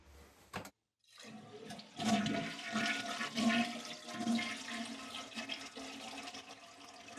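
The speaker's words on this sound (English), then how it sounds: "make sure to flush the toilet" A toilet flushes while its tank is being drained during a fill valve replacement, with a short click and then a steady rushing, gurgling swirl of water close by, the sound alone and running for several seconds.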